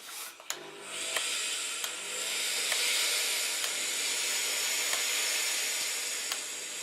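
A steam iron pressing a shirt seam allowance down, a steady soft hiss of steam with a few light taps and knocks against the board, close and alone.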